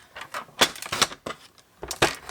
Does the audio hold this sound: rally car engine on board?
no